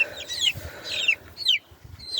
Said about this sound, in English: Instead of catching rabbits, we caught dang chicks.